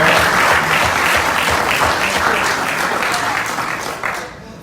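A crowd at a Nation of Islam lecture applauds with dense, steady clapping that fades slightly toward the end.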